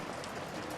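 Steady rain in the video game Shadows over Loathing, a dense, even hiss of falling drops that carries on without a break and with no voices.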